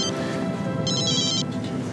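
One short burst of telephone ringing, a bright warbling trill, rises out of a busy background and stops after about half a second.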